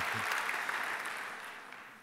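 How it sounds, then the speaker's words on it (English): Applause from a church audience, a dense, steady patter of many hands clapping that stays even and gradually fades a little toward the end, with no speech. "We keep the applause going, okay."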